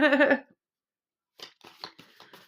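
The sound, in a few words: shuffling new tarot cards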